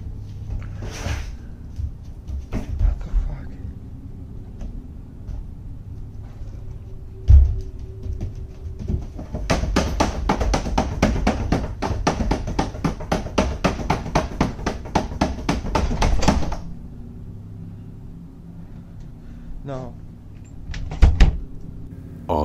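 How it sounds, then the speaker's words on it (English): Someone knocks intensely on a door, first with scattered thumps and then with a long run of rapid, loud, evenly spaced raps lasting several seconds, followed by a few more isolated knocks. "After some intense knocking on the door, he opens it"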